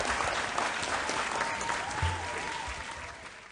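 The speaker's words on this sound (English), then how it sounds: "Ladies and gentlemen, round of applause." An audience at a national schools quiz championship applauds in a steady wash of clapping that fades slightly toward the end.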